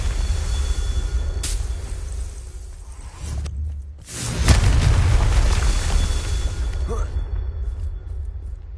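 A Confringo fire spell bursts in a Harry Potter–themed game: a broadband whoosh around the one-and-a-half-second mark, then a brief gap and a heavy, booming blast that rumbles and slowly fades over several seconds.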